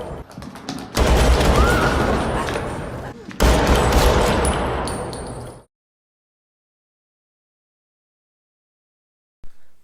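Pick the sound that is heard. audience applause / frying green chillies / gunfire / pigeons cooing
gunfire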